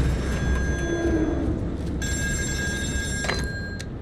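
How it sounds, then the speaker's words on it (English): An old bell telephone rings on an offshore oil rig in Still Wakes the Deep, a metallic trilling ring cutting in partway through, bright and close over a low industrial rumble, with a faint earlier ring. "Was that phone ringing again?"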